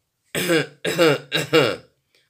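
A story reader clears her throat, three quick guttural rasps in succession, close and dry, with silence before and after, imitating a character clearing her throat.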